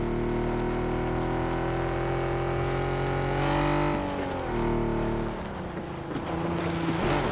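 A car driven in PUBG on the Erangel map roars with a loud, steady engine drone that shifts pitch as it accelerates and drops around mid-ride, close and continuous throughout.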